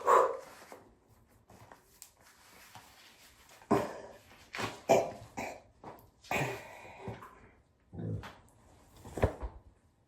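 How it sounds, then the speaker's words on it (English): A pet dog gives a few short, sharp barks and coughing woofs in a home, spaced out over several seconds, fairly close and moderately loud, with no one talking. "Barking at me? You silly boy."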